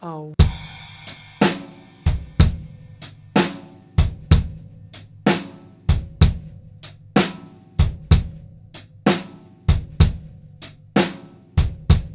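A drum kit plays a loping shuffle groove, crisp sharp hits on a bouncing triplet feel with added triplet partials on beats 2 and 4, close and loud, repeating evenly without voices.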